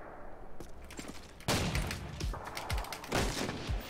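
Gunfire in Modern Warfare 2 while trickshotting with the DSR sniper rifle, a burst of loud, close shots cracking in quick succession over game noise.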